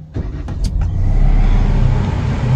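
A Proton Saga MC2 car engine is started with a few clicks of the key, then cranks and catches into a loud, steady idle rumble that settles and holds close by.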